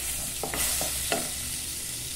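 Butter sizzles steadily in a pan while a utensil stirs it with a few scraping strokes, all close and continuous with no talking, at the start of a kale farofa.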